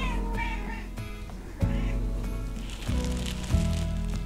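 A cat meows a few times at close range indoors, over a steady background noise that sounds like rain with a few loud knocks.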